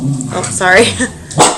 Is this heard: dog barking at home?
yes